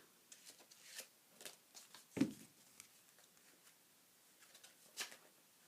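Soft, faint rustling and riffling of cards, with a few light taps and flicks in an otherwise quiet room.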